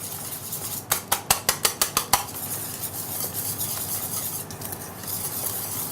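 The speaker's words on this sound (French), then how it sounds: "Et on mélange le tout." A utensil beats eggs into batter in a bowl, about nine quick rhythmic clinking strokes against the side, followed by softer scraping mixing sounds under a faint kitchen background.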